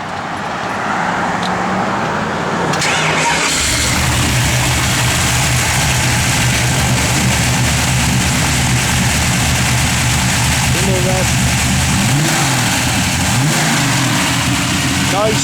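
A 1966 Plymouth Satellite engine turns over and settles into a steady, loud idle up close, with occasional revs, while people talk nearby.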